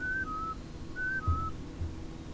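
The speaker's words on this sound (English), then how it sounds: "And he wants us to whistle." A character whistling in the video game Oddworld: New 'n' Tasty: a short two-note whistle, falling in pitch, sounded twice in a row, clear but quiet over low game ambience.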